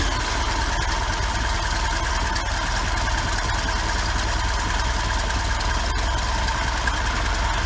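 A 120hp Mercruiser boat engine with a freshly overhauled Rochester two-barrel carburetor idles in a steady, even rumble, close and continuous throughout, with no talk over it.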